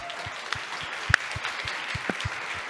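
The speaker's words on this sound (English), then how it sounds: "So please give a huge round of applause to Team Kiwi" Audience applause at the close of a fireside panel discussion at the TechChill tech conference: steady, dense clapping from a crowd, with a few sharper claps standing out near the end.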